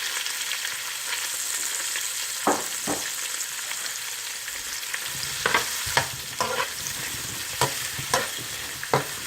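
Onion and leek frying in butter in a pan give a steady broadband sizzle throughout, broken by several sharp utensil scrapes and taps as the pan is stirred, close and fairly loud with no voices.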